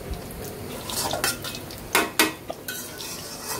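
Chicken frying in a pan, with a metal utensil scraping and clinking against it in several sharp strokes over a soft background sizzle.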